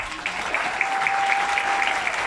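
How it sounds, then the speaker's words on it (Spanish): Applause at a recognition event for the Paraguayan community in Ireland, a steady patter of clapping at moderate loudness with a faint tone running beneath. "Los aplausos."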